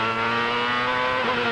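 CART race car engine during 1999 Molson Indy Vancouver qualifying: a loud, sustained high-pitched engine whine holding near-steady revs, close and alone, with a slight pitch shift near the end.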